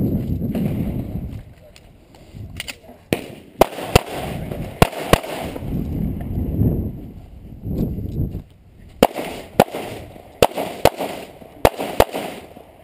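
Gunshots from a shooter firing at a target on an outdoor range, a string of sharp, loud cracks spaced unevenly, some close together, over wind noise and low rumble.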